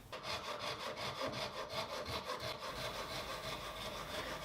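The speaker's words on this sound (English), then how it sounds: "cutting the splines now. It's a Japanese pull saw." A Japanese pull saw cuts splines in beech and jarrah for a dinner set, its steady rhythmic rasping strokes close and clear, then easing into a softer continuous scrape.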